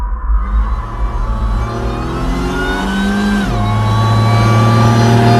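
A Pontiac Fiero with a swapped 3800 engine revs up loudly and close on a test drive, pitch climbing steadily, shifting once, then rising again.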